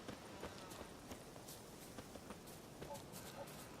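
Horse hooves galloping in The Witcher 3: Wild Hunt, a faint, quick, steady clip-clop rhythm continuing throughout at low volume.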